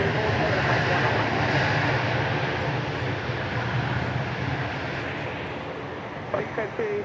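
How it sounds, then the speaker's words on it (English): A Boeing 737-700 arriving at Dallas Love Field from Albuquerque as flight 1270 makes a loud, steady jet roar that slowly eases off toward the end. "The arrival that snuck in on us there was flight 1270 from Albuquerque"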